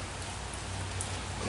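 Steady rain falls in Michigan, a soft continuous patter with a low rumble beneath, even and unbroken throughout with no voices.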